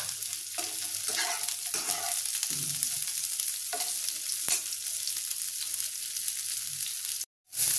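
Cauliflower florets with a little salt fry in a pan, a steady close sizzle with occasional stirring scrapes, continuing alone until it cuts off briefly near the end.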